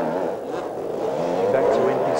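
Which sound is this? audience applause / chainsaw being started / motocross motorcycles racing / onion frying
motocross motorcycles racing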